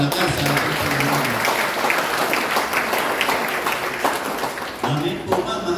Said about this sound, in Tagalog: pumalakpak ng malakas sa ating Panginoon